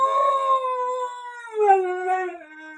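A dog howls alone in a sustained, wavering tone that dips and rises again in a second drawn-out howl, moderately loud and nearby.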